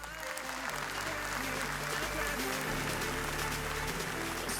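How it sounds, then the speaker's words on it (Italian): Theatre audience in Naples applauds during a Miss Europe Continental pageant show, steady clapping layered over a low musical drone and hum. "Applauso."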